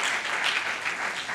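A church congregation claps loudly and steadily in a dense, continuous burst of applause that fills the whole moment, with no voices standing out.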